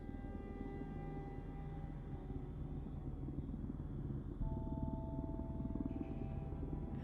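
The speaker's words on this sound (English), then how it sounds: "Helicopter event at 11:30 at night." A helicopter flies overhead at night in a zombie survival video game, its low rotor rumble droning steadily throughout, faint and sustained without any talking.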